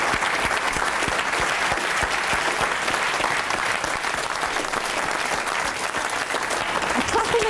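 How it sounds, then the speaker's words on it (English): A game-show studio audience applauds, a loud, dense and steady clapping that fills the whole stretch with no pause. "I'm clapping again."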